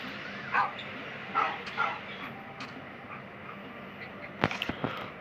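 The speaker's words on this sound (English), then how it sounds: "Yeah, I can spawn wolves." Wolves in the video game Minecraft give short, scattered yips and soft whimpers, fairly faint over a low background, with a few sharper, closer sounds near the end.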